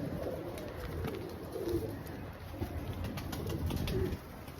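Low, soft pigeon coos repeat over a muffled, noisy background, with a few faint chirps mixed in.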